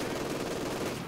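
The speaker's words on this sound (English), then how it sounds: "Let's get the machine gun set up." Sustained machine gun fire in the World War II strategy game Company of Heroes, a dense continuous rattle of rapid shots lasting the whole moment at steady loudness with no talk.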